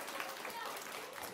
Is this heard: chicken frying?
no